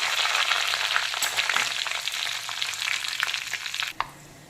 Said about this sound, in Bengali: পাঁচফোড়নটাও কিন্তু হালকা ভাজা হয়ে গেছে।